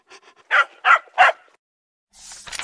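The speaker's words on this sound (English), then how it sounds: "First is the puppy." A puppy gives a few soft yips, then three louder, sharp barks in quick succession, close and clear with no talking, ending in a brief burst of noise.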